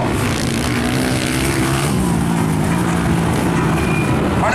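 A racing engine roars loudly and continuously past at a velocross race in Caraúbas, Rio Grande do Norte, a sustained buzzing drone with a shifting pitch.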